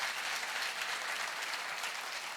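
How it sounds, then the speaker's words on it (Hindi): Audience applauding at a speech by an Indian government minister, dense continuous clapping from a large crowd, loud and steady throughout. "ऑपरेशन गंगा के लिए तो तालियां उतनी जोर से बजनी चाहिए"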